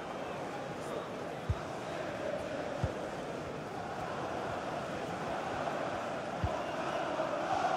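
Premier League stadium crowd at Leicester City vs Manchester United, a steady, dense roar filling the whole stretch with a few sharp thumps rising out of it.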